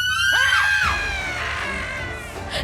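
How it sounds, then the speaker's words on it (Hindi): Cartoon characters scream loudly together in a horror story scene, with a high shrill cry rising and falling over a sustained noisy wash of yelling. "बाकी तीनों पीछे हटकर जोर जोर से चिल्लाने लगते हैं।"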